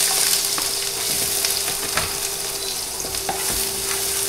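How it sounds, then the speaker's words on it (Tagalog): Corned beef sizzles steadily in a hot pan while a utensil stirs it, scraping and clicking at irregular intervals over the constant close frying hiss. "So, iluluto lang natin ating corned beef."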